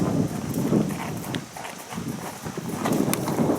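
Horse hooves striding over ground during a jumping lesson, a steady rhythmic clip-clop of footfalls close by with a soft outdoor background.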